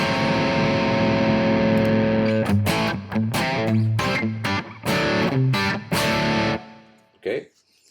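An electric guitar played through an amp cabinet and picked up by a microphone, a distorted, sustained chord riff with sharp stop-start strums and a final short stab, loud and close.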